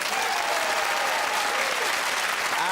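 Studio audience applause at a Christmas comedy panel show, a dense, steady wash of clapping filling the room from start to finish with no pauses.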